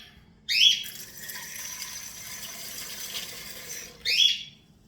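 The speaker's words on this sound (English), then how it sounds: "Right now I'm going to use cold water and bring it right up to the 2 cup line." Cold tap water running steadily into a measuring container for a pasta machine, a continuous hiss of moderate loudness bracketed by brief squeaky tap sounds at start and end.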